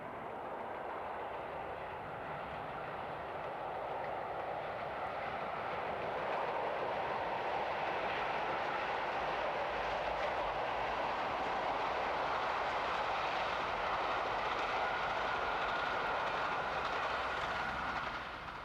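British Railways steam locomotive 71000 Duke of Gloucester running on the East Coast main line toward King's Cross, a broad steady rushing roar that swells gradually as it passes, heard from a distance with no talk.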